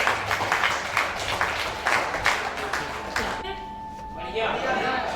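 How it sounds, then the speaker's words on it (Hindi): A crowd claps steadily to welcome someone onto a stage, then the applause thins and fades as a voice speaks over the room. "जोरदार तालियों से इनका स्वागत कीजिए"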